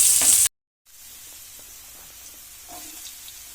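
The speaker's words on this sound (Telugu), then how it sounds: "ఇప్పుడు ఆయిల్ వేసుకుంటున్నాము, వేయించుకుంటున్నాను." Coriander seeds, cumin and curry leaves hit hot oil with a loud, hissing sizzle for half a second, then after a brief silence a much fainter, steady frying murmur continues.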